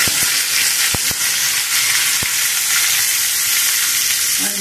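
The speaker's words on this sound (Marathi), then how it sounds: "आता आपण ह्या चटणीला फोडणी देणार आहोत।" Hot oil sizzles loudly as mustard seeds and asafoetida are added for a tempering for fresh coconut chutney, a dense continuous hiss with a few sharp pops and clicks.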